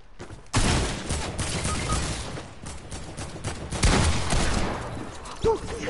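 Sustained AK rifle fire in a video game crackles as dense, loud bursts over several seconds, with a brief gap and renewed volleys.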